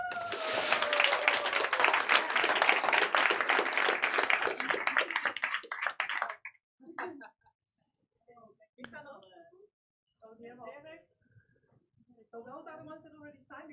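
A round of applause fills the room at a Dutch political launch event for a multi-party global health initiative, dense clapping lasting about six seconds before fading, followed by scattered speech.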